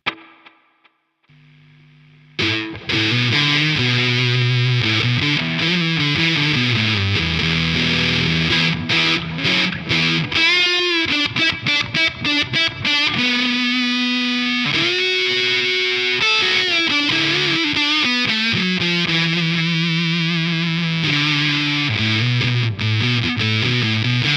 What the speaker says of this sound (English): there's a delay on the Katana